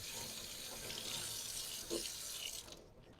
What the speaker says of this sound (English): Just give them a good rinse.